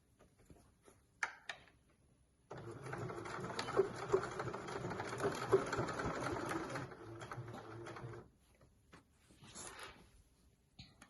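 A sewing machine stitches the side seam of a fabric pack-away shopping bag in one steady, close, whirring run of about five and a half seconds, with quieter handling taps before and after.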